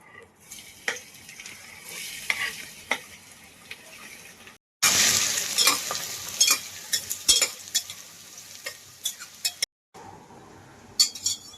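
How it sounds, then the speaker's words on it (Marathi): Onions fry in hot oil for a chicken curry, a continuous crackling sizzle up close that surges loudly halfway through, broken by short gaps and scattered clinks and scrapes of stirring. "आता आपण कांदा भाजून घेऊया पहिला."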